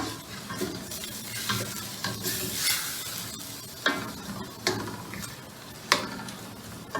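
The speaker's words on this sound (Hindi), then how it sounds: "प्याज हमारी कच्ची पक्की हो गई है, इसको 1 से 2 मिनट के लिए भूनना है।" Onions sizzle in a pan while a utensil stirs and scrapes, with a few sharp clicks among the steady frying.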